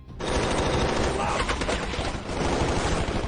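Dense, sustained automatic gunfire in a brutal shootout from the action film The Expendables, a loud continuous barrage of rapid shots filling the whole stretch with no pauses.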